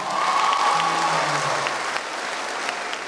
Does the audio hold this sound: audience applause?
yes